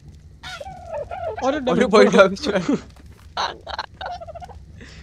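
A dodo in the ARK survival game clucks in short fowl-like bursts, with someone speaking Hindi over and between the calls.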